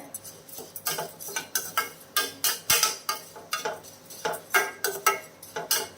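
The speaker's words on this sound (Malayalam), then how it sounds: "ഇനിയിപ്പോൾ ഇതൊന്ന് വറുത്തെടുക്കണം നമുക്ക് രണ്ട് മൂന്ന് മിനിറ്റ് ഫ്ലെയിം കുറച്ച് വെച്ചിട്ട് വറുത്തെടുക്കാം" Poha, or flattened rice, dry-roasting on low flame in a pan, stirred with a spoon in a steady rhythm of close, clattering scrapes and ticks against the metal, with no talk.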